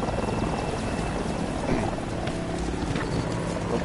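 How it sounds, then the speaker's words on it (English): Helicopter flying in the Battlefield 2042 shooter game, a steady rotor and engine drone running continuously at moderate level beneath a busy mix of game noise. "Oh, look at that helicopter."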